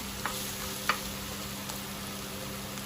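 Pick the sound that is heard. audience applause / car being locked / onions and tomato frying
onions and tomato frying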